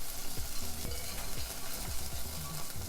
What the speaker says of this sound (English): Just kind of let everything saute and sizzle up.